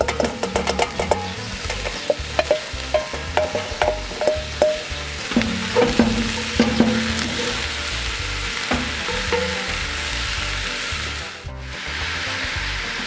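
Onions and lardons fry in a pan with a steady crackling sizzle, while a utensil scrapes and knocks in a rapid, uneven rhythm early on and the stirring eases off later.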